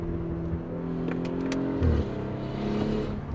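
A bone-stock 2020 Audi SQ5 V6 with universal valved mufflers and the valves open rumbles at idle, then gives a short rev and settles back into a deep burble. The exhaust sits close and moderately loud, with no voices.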